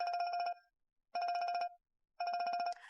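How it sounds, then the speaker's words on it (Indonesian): A telephone rings in three even bursts, each about half a second long and separated by pauses, bright and electronic, with no talking over it. "Angkat telepon kamu."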